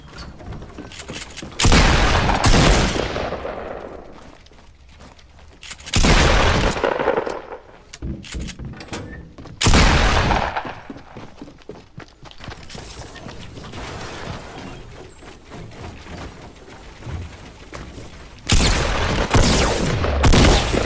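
Gunfire in Fortnite comes in several loud, dense bursts of shots with mechanical clatter, separated by quieter stretches with scattered single shots.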